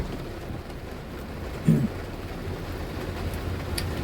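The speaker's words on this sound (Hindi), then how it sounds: "लेकिन अब तो खैर बारिश ज़्यादा तेज़ हो गई है" Heavy rain drums steadily on a car while driving, a dense continuous wash with one brief dull knock partway through and no voices.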